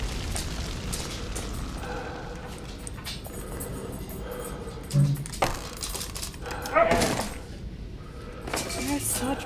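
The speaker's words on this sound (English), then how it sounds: "he's just sitting there barking at her" A dog in the video game We Happy Few barks in scattered short bursts, set against game ambience with a few dull thuds and people talking over it.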